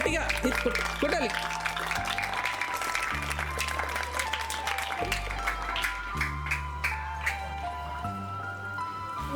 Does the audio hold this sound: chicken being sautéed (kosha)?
no